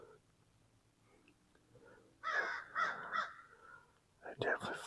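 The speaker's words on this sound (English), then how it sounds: "Sure you hear that between the Hoot Owl and the Crows" Crows cawing and fussing at each other in afternoon woods during a deer hunt, a few raspy bursts of calls at moderate distance over quiet background, with a faint whisper-like murmur early on.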